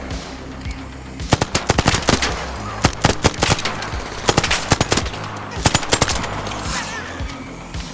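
Bursts of rapid video game gunfire from Arc Raiders crackle in several volleys with short pauses between, loud and close, over a low ambient rumble.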